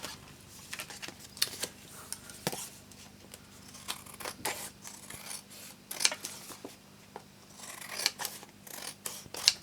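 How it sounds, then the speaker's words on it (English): Scissors snipping through card paper during a papercraft project, a series of close, crisp cuts and rustles at an irregular pace with no talking. "So then I'm just going to cut this down to size."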